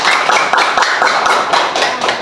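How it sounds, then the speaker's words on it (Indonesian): Brisk clapping from a classroom group of children and teachers, close and loud, a dense burst of hand claps sustained with no talk. "Tepuk tangan dulu buat kita semua."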